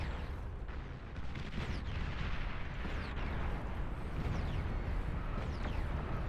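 A commander unit self-destructs in a large-scale battle in the strategy game Beyond All Reason, heard as a dense, continuous wash of distant booming explosions and artillery-like blasts at moderate volume.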